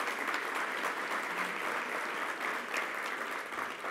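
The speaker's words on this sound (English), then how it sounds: "And a round of applause" Steady applause rises from the audience at an evening national service awards event, even and fairly faint throughout, with no voices over it.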